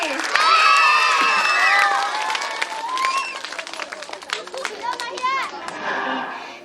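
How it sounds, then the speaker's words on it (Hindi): A crowd claps and cheers for a little girl's dance performance, with children's excited shouts and voices rising over loud applause that gradually thins into scattered clapping and chatter. "इनके लिए जोरदार ताली।"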